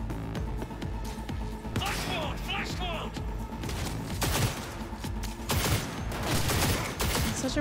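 Gunfire from a weapon in the video game Cyberpunk 2077: repeated sharp shots and bursts over a dense game mix with music, while a voice talks across much of it.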